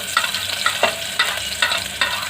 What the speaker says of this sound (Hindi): अब हम इसमें ये कटी हुई लाल मिर्च डाल देंगे और साथ ही कटी हुई प्याज भी